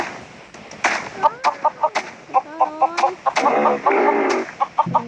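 Several chickens cluck close by in quick, rhythmic bursts of short clucks, with a few longer squawks mixed in among the flock.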